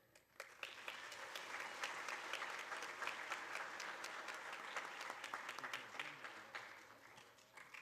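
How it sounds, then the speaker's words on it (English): An audience at a school board student recognition ceremony applauds a retiring teacher: sustained, crowded clapping starts abruptly and holds steady for several seconds, with a few sharper individual claps standing out. "If we could please have one more round of applause for all of our teachers"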